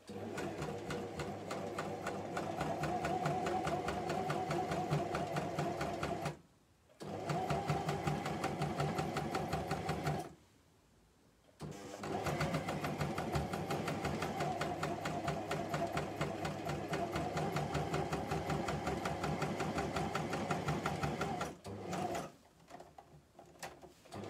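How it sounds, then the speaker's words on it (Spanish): A coverstitch machine sews a decorative hem with a loud, steady, fast mechanical whir that runs for several seconds at a time, broken by short pauses and ending with a brief final run. "el doblez queda por arriba de nuestra colloretera para poder hacer esta costura decorativa"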